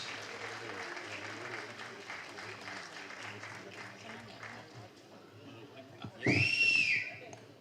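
Audience clapping at the Kumki 2 trailer launch as a guest is welcomed on stage, a moderate, fairly distant patter of hands with a loud whistle or cheer rising sharply near the end.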